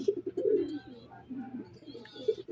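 Domestic pigeons in a loft coo in a steady run of soft, low, throaty calls, close by and moderately loud, with faint chirps and background noise between the coos.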